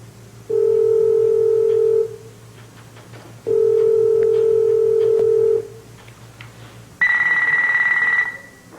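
Hotel room telephone line: two long steady ringback tones, each about two seconds, separated by pauses, then a higher, brighter tone burst, all clear and close with no talking.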